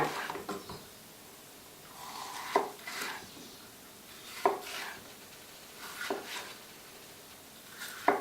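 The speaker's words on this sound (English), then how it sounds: "Just cutting it into thin strips." Capsicum being chopped into thin strips on a board, with faint knife strokes in short clusters separated by quiet pauses.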